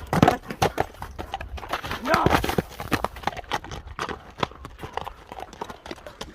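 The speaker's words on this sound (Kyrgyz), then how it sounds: "Жүгүрөм деп турган ат экен." An eager horse clip-clops with quick, irregular hoofbeats on hard ground at close range, restless and stamping, while people talk nearby.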